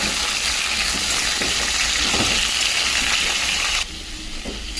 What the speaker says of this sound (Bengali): কুমড়ো, আলু আর টমেটো ভালো করে ভেজে দিচ্ছি।